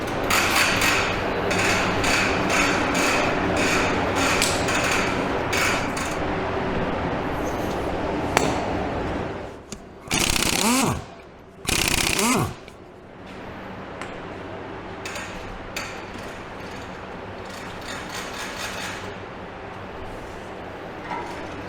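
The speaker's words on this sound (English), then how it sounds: "I got to get the pneumatic impact out" A pneumatic impact wrench on truck wheel lug nuts fires two short, loud rattling bursts over constant shop clatter and mechanical noise, with a pause between them.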